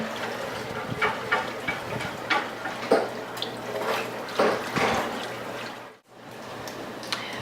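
Milk trickles and splashes into a roux of butter, flour and oil while a whisk stirs it, for baked macaroni and cheese. Soft, uneven pouring and dripping sounds come in brief pulses, with one short drop-out near the end.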